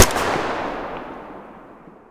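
A single gunshot in the video game Gray Zone Warfare: one sharp, loud blast at the start, then a long reverberant tail that fades away over about two seconds, with no other sounds.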